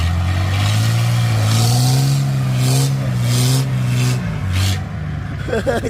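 A car engine with a 1.9 engine strains and revs hard while towing a trailer up a climb, a loud close drone rising and wavering in pitch before easing off, with bursts of rattling and scraping toward the end.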